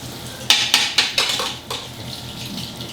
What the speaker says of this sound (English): Come along with me while I sit and do dishes on camera.